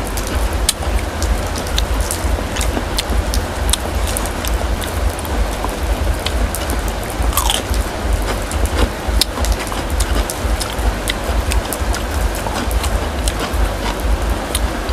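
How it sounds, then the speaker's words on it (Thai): Steady rain pours down outdoors during a meal, a dense continuous patter with scattered sharper drops, loud and constant throughout. "บรรยากาศฝนตกแล้วแบบ"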